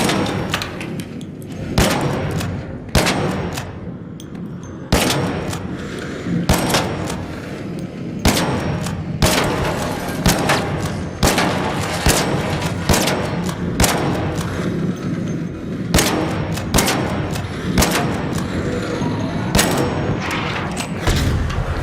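Rapid bursts of video game gunfire crack loudly in irregular volleys, sharp shots and thuds repeating throughout with little talk.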